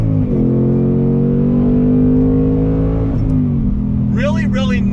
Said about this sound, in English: But listen to that V8 sound. On throttle, here we go, second gear.